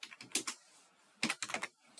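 Soft clicking bursts of fingers typing on a computer keyboard, two quick runs of keystrokes separated by a brief pause, fairly quiet and close, with no speech.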